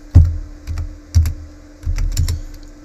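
Keystrokes on a computer keyboard as a Linux apt-cache command is typed, arriving in short clustered bursts of clicks at close range, with no voices.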